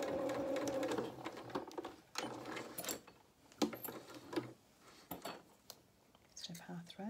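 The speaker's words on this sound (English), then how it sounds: "I'll turn my speed down off my top stitching." Sewing machine top stitching a fabric seam for a wool coat, a fast mechanical whir in short runs that stop and start, quiet and close, with brief handling sounds between.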